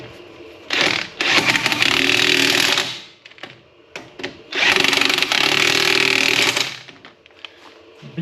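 Power tool tightening bolts on a Saab 9-5 Aero front suspension: two long, loud whirring bursts of several seconds each, separated by a short pause with clanks and small knocks.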